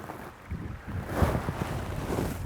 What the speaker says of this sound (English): You can feel it's windy right in this little pocket here